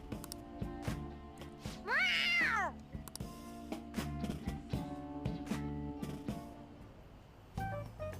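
A cat meows once in the Persona 5 Royal video game, rising and falling over ongoing game music with scattered clicks and effects.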